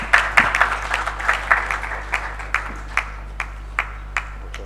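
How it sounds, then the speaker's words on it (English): A small audience at a business roundtable event claps sparsely, with scattered hand claps thinning out into a few isolated claps over a steady low hum. "with a round of applause, let's welcome Dr. Kwesi Enin."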